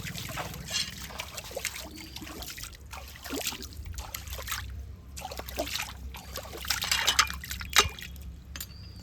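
Water trickles and splashes into a cleaned, formerly burnt pan (kadai) in a kitchen, with soft intermittent pouring and dripping, fairly quiet and close.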